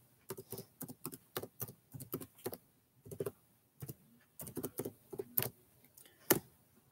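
Typing on a computer keyboard, close and fairly soft, in irregular bursts of quick key clicks separated by short pauses, with no talking.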